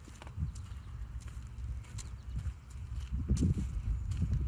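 A horse walks beside a person on a first walk on foot, its hooves clopping in an irregular steady rhythm at moderate distance, with faint outdoor background.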